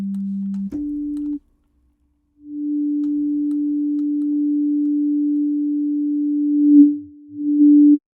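A pure sine wave synth patch in Omnisphere 2 holds steady tones: a short low note, a brief higher one, a gap, then a long sustained tone that swells slightly and wavers near the end, with no voice.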